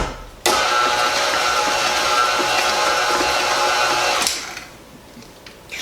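A stand mixer runs for about four seconds while mixing cake batter for an Italian cream cake, giving a steady loud motor whine that starts abruptly and cuts off, followed by quieter background.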